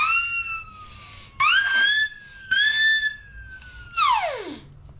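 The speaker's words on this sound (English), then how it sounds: "the nightingale caller" A nightingale caller bird whistle played in several separate bursts, each a warbling, sliding tone that rises or falls in pitch, sounding close and fairly loud.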